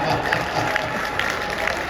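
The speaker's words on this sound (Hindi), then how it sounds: "अगर आपका जवाब हो तो तालियों का शंखनाद करिएगा।" A poetry recital audience claps in dense, continuous applause, a steady wash of many hands with faint crowd murmur underneath, lasting the whole moment.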